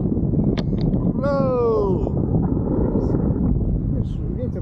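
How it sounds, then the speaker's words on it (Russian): Strong wind buffets the microphone during a tandem paragliding flight, a constant low roar, with a brief falling whistle-like tone and people talking faintly underneath. "ветер довольно сильный, срывает"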